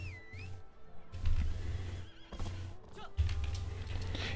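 A horse whinnies near the start in the wuxia MMORPG Justice Online, with repeated clip-clop hoofbeats running through the rest over a steady game backdrop.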